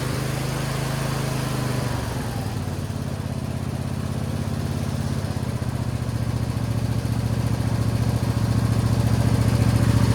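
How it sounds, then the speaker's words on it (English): A Briggs & Stratton 20 hp V-twin on a John Deere Z225 zero-turn mower idles a little fast, a loud steady close-up drone that shifts slightly early on and then holds an even running rhythm. "Check out that idle. It's a little fast, but I think it's running on both cylinders."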